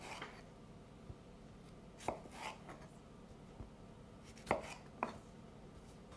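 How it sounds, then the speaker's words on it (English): A knife cutting tomatoes into quarters on a board: a few sparse, quiet chopping taps spaced out over a low hum, with no talking. "So now we're going to cut these tomatoes in quarters."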